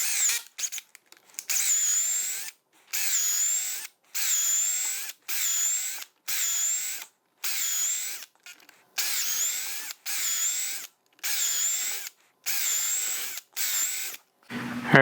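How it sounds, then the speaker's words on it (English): A power drill bores a series of holes around an upper trailing arm bushing on a 100 Series Land Cruiser, about ten evenly spaced whining bursts separated by short pauses, close and fairly loud with no talking. "I'm just gonna go ahead and drill a bunch of holes around here."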